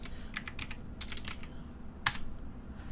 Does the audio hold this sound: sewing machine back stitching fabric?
no